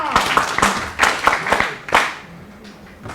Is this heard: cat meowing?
no